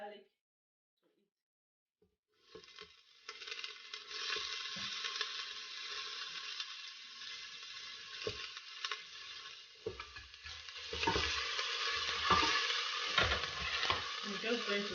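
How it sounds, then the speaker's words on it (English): Ginger and garlic sizzling in hot oil in a pot while being stirred, a steady bright crackle that starts abruptly after a quiet moment and grows louder, with scraping stir sounds and occasional knocks. "I'm just going to stir it for 1 minute, then add my onion."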